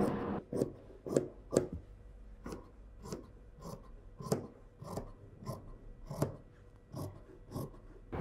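Sharp, crisp snips of scissors cutting blouse fabric for a bow and collar, a dozen or so distinct cuts in an irregular rhythm, close and fairly quiet.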